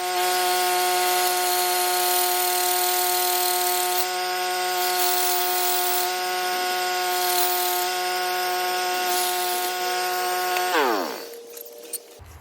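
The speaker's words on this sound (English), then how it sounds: "Let me get drill bit chucked up, the noisy generator started," A drill boring into a hand-forged gun barrel, a steady whining drone with a grinding edge that runs continuously, then winds down and stops near the end.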